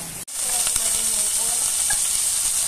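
Tofu frying in a pan until golden brown gives a steady, close sizzle that starts abruptly and continues evenly, with occasional small pops and crackles.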